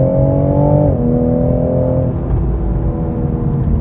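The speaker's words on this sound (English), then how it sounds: "It's definitely a nice 6-cylinder soundtrack." A six-cylinder car engine revs loudly and steadily, its pitch holding high then stepping down slightly as the revs drop, with no talk over it.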